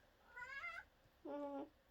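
A cat meows twice at a door, the first a rising, drawn-out call and the second a lower, shorter mew, both fairly faint in a quiet indoor space.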